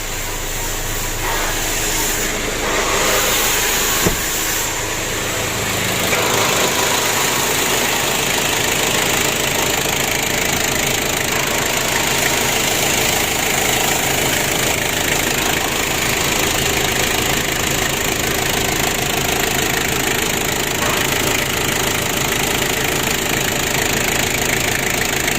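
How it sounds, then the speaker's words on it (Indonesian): A car engine that is losing a lot of oil and will not rev high runs steadily after starting, loud and close, with a constant rough idle and a faint knocking texture throughout. "Untuk mesinnya sudah hidup."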